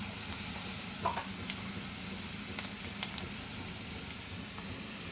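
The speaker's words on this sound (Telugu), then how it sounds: "ఇలా వేయించుకోండి ఇలా గట్టిగా ఇందులో జీలకర్ర కూడా కొంచెం వేసేసుకున్నా" Marinated chicken with cumin seeds, ginger and garlic frying in hot oil, a steady dense sizzle throughout with a few brief crackles and stirring clicks, close and continuous, no voices.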